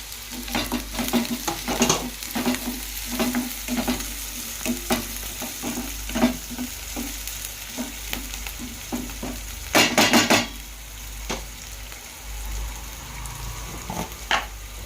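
Chicken and onions frying with curry leaves in a pan, a strong crackling sizzle under steady rhythmic stirring scrapes, with a brief louder burst of spatter near the middle.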